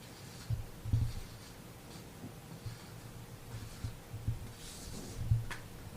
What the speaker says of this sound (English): So I'm going to write here.